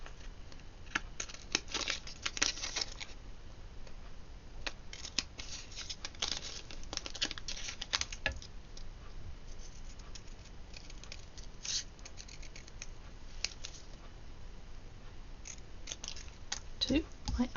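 Scissors snip small card panels cut by eye, making quiet, close, irregular clicks and snips with light papery rustles between them.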